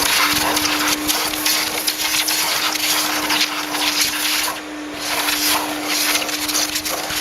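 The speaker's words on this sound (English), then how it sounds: "So I'm just going to go ahead and grab a vacuum." A shop vacuum runs steadily and loudly while sucking filings and dust off a WerkMaster Raptor XT concrete grinder, with a constant motor whine and shifting rushes of airflow as the nozzle moves.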